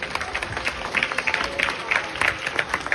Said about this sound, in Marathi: किरण मॅडम साठी जोरदार टाळ्या।